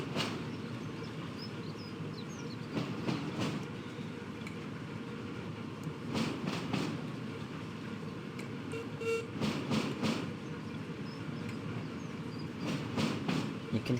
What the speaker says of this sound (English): You can hear that this is a 6-coupled loco.